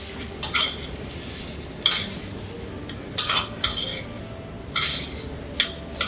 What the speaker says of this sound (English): I'm just going to stir that through.